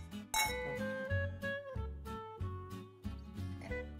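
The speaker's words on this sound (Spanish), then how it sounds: "Vamos a brindar con vino blanco de Lanzarote" Wine glasses of Lanzarote white wine clinking in a toast, a bright ringing clink near the start followed by a lingering tinkling resonance under soft music, no talking.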